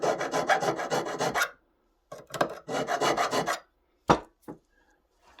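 A metal file rasps solder out of the joint of a ring in rapid, close strokes, coming in bursts with short pauses between them and a couple of sharper knocks near the end.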